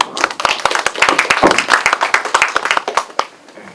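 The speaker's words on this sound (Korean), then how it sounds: "박수로 맞으시죠." An academic literature festival audience in Korea claps to welcome a speaker, a close and loud burst of many hands that thins out toward the end.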